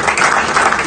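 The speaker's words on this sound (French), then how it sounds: "Il faut applaudir pour le chef de l'État" Audience applause for the head of state: a dense, steady wash of many hands clapping together, continuous and fairly loud with no clear break throughout.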